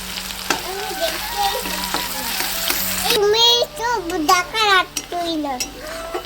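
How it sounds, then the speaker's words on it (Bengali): Chopped onion sizzling in a pan while cooking a Bhola fish curry, a constant frying hiss under lively voices, including a child, with pans clattering and stirring in the background. "পেঁয়াজ কুচিটা দিয়ে দেবো আর পেঁয়াজ কুচিটাকেও লাল করে ভেজে নেবো আমি"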